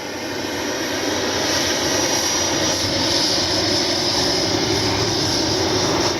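Steady, loud jet roar from an FMS Avanti S 90mm electric ducted fan RC jet flying with flaps down, a continuous broadband whoosh that holds level throughout with no talk over it.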